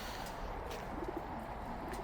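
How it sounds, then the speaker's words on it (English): Pigeons coo softly in a park, a few low, rounded coos rising briefly out of steady outdoor background noise, faint and somewhat distant, with no voices. "I see all these pigeons"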